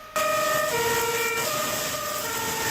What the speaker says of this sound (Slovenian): Kuliso sta napolnila orkanski veter in intervencijske sirene.